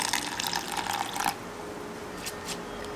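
Water pours from a tap or vessel onto soaked rice for Kerala-style unniyappam batter, a close, steady splashing rush lasting about a second before falling to quiet with a couple of faint later trickles.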